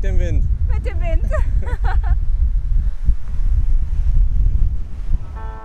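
Strong wind buffets the microphone with a constant low, roaring rumble at deserted Coral Bay, Australia, and a person talks briefly at the start.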